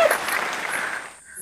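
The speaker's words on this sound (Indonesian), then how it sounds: "Tepuk tangan dong buat buketum kita." A short burst of clapping from a small group of podcast hosts and guests, close and fairly loud, stopping abruptly after about a second.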